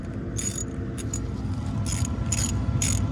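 Wrench tightening a carriage bolt on a combine head, a steady low mechanical rumble with short bright ratcheting clicks in several separate bursts, close and clear.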